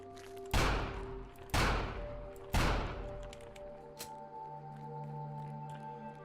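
Three loud, sharp gunshots from The Final Station, fired at infected enemies, ring out about a second apart, each with a long decaying tail, over a low game hum and a few faint clicks afterward.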